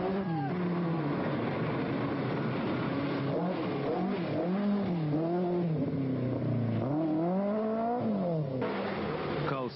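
Porsche rally car at speed during a 1983 rally in Haspengouw, its engine revving up and down through repeated gear changes, loud and close throughout.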